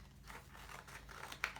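Small scissors snip through a paper print card, quiet close crisp cutting strokes with a sharper snip near the end, no talking.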